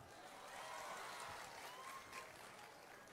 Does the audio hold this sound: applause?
yes